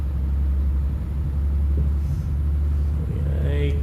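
A truck engine in Euro Truck Simulator 2 rumbles steadily and loudly as the rig speeds downhill, a low continuous drone with a brief higher whine near the end.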